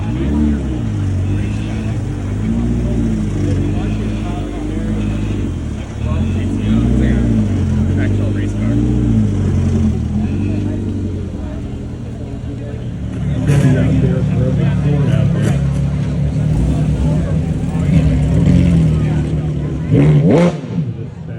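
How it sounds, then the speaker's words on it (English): A 7-liter V8 in a lightweight car, Shelby Cobra style, idles loudly at an outdoor car show, with a heavy rumble and a few blips of revving partway through. People talk nearby throughout. "So that is a huge engine, 7-liter V8, and you have a kind of lightweight car."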